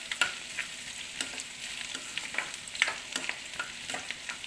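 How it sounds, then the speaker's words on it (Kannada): Garlic frying in ghee in a pan for a cauliflower palya gives a steady close sizzle and crackle, with light stirring scrapes and taps recurring throughout and no talking. "ಆ ಬೆಳ್ಳುಳ್ಳಿದು ತುಪ್ಪದ ಜೊತೆ ಫ್ರೈ ಆಗುತ್ತಲ್ಲ"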